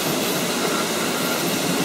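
A Märklin model railway train runs on a home layout, giving a steady, continuous rolling rumble and rattle of small wheels on track, unbroken and fairly loud throughout.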